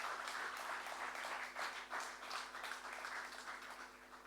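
A formal conference audience at an economic report launch applauds in a joint round for two honored speakers, faint and distant clapping with a steady hum underneath, swelling slightly and fading over a few seconds.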